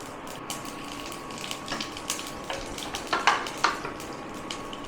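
Whole cumin seeds fry in leftover oil from fried rohu fish, giving a steady, low sizzle with occasional brighter crackles and pops.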